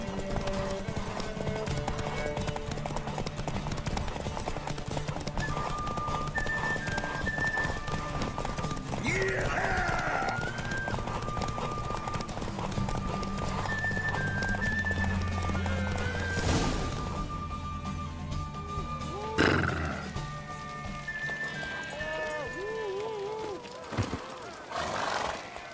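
A horse race in The Witcher 3 video game: steady hoofbeat clip-clop of galloping horses runs throughout, with whinnies and snorts, loud and close, under occasional game sounds.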